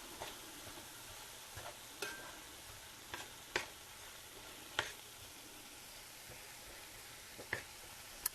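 Onions and peppers for spaghetti sauce sizzle softly and steadily in a skillet, a faint, even hiss broken by a few sharp clicks of a stirring utensil.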